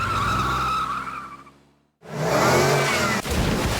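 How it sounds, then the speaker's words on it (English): In a cartoon, a car towing a trailer screeches into a loud tire skid and then roars down toward the ocean, with a brief silent gap between the two bursts. "He drove the entire car, trailer and all, straight into the ocean."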